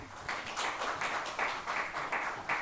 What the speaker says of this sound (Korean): 큰 박수로 맞이 부탁드립니다